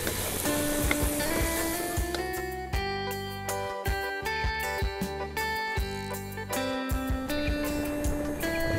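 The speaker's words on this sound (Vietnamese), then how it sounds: "cái tôm này mình xào cho nó thơm nó săn" Shrimp stir-fried in a hot pan, a steady close sizzle with scraping and stirring knocks, partly covered by music.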